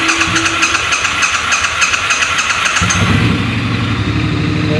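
A Triumph Bonneville 900 motorcycle engine cranks, then fires and catches into a rough, close idle, loud and alone with no talk.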